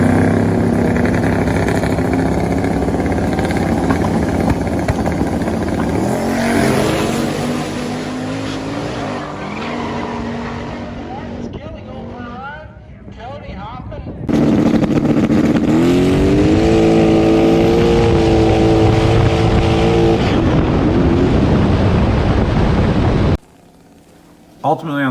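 Turbocharged stock-bottom 5.3 LS no-prep drag car doing a burnout and launching, with loud screeching tires and a roaring, revving engine that surges hard, then cuts off abruptly near the end while voices talk over it.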